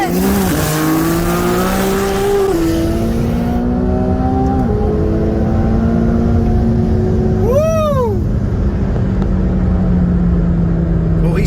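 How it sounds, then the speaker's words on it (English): A tuned McLaren 720S supercar launches at a race start, its engine howling loudly through rising revs and gear shifts, with a sharp sweeping squeal of a passing vehicle midway, near and continuous. "we have a McLaren 720S who was excited to go test out his freshly tuned car"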